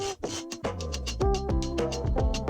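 A guitar riff sampled into a Casio SK-1 sampler and quantized in Logic, with a short lo-fi melodic ditty and punchy low beats underneath, steady and fairly loud.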